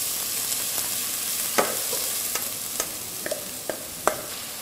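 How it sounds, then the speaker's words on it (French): Onions sweat in olive oil for a risotto, giving a steady, airy sizzle with a handful of light, scattered clinks and taps of stirring. No voices are heard. "Les oignons qu'on va faire suer sans coloration."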